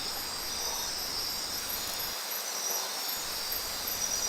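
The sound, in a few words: insects chirping in a dark forest at night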